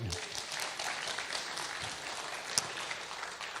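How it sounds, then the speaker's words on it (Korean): A church congregation claps briefly during a sermon, a soft, distant wash of many hands at low level with a single louder clap near the end. "박수 한번 주시죠"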